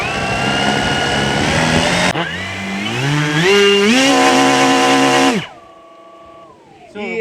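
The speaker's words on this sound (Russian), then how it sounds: "Винты крутятся достаточно мощно" Propellers of a kamikaze drone spin up hard during a ground test, a loud, close, buzzing motor whine that shifts pitch upward, then cuts out abruptly and fades to a faint hum.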